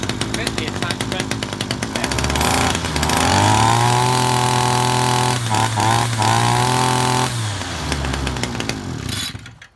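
A Titan petrol strimmer engine runs loudly at close range while warming up, a buzzing two-stroke drone that rises in pitch, holds steady, then settles lower before cutting off near the end.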